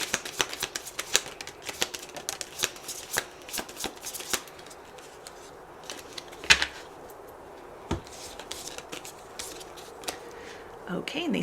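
Cards for a twin flame message reading are shuffled in a quick run of crisp riffling flicks and taps. The papery bursts repeat throughout, fairly close and moderate in level, with faint room background between them.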